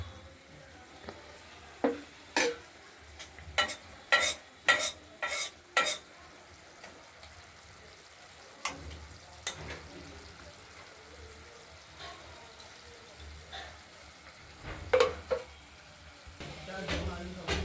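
Drumstick flowers frying in oil in a wok with a steady low sizzle, broken by a series of sharp stirring scrapes and clinks in a rhythmic cluster, then sparser strokes.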